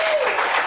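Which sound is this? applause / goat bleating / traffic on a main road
applause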